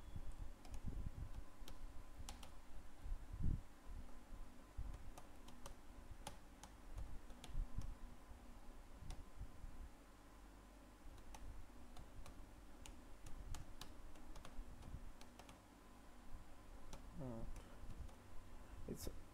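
Keys clatter faintly and irregularly on a computer keyboard as a script is typed in a code-building simulator, with scattered soft clicks running throughout.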